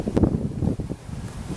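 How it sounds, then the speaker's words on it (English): Wind buffets a microphone outdoors during a sneaker photo shoot, a low, uneven rumble that gusts and fades across a brief stretch with no talking. "So, it's kind of windy over here."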